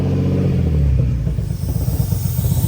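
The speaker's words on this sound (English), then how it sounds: "You can hear the intake screaming for air." Deep, loud engine rumble from a truck fitted with a throttle body spacer, its intake roaring as the revs build and then settle into a rough, throbbing idle, heard up close with no talking.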